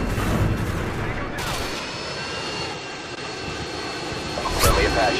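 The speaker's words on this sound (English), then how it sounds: "Friendly Apache inbound." An Apache helicopter flies in during a video game battle, a steady engine and rotor drone running under gunfire bursts and shouted voices, with a sharp crack near the end.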